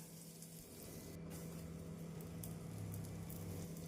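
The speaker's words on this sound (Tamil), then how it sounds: "நாம் சப்பாத்தி கல்லில் சிறிதளவு பட்டர் சேர்த்து சப்பாத்தியை போட்டு விடலாம்." A stuffed potato paratha sizzles in butter on a hot tawa, giving a soft, steady crackle and hiss with a faint low hum underneath.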